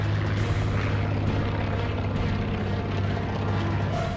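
Propeller-driven P-47 Thunderbolt fighters roar in a low-altitude dogfight over slag heaps, a loud, continuous droning engine sound with steady low hum and no gaps.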